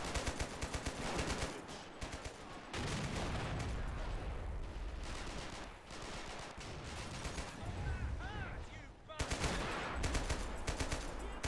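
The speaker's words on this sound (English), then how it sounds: "this mortar is so good" Mortar fire in the war strategy game Men of War: Assault Squad 2, dense bursts of booming explosions and rattling gunfire layered into a continuous loud battle din, with brief lulls between volleys.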